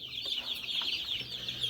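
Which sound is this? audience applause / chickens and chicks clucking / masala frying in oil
chickens and chicks clucking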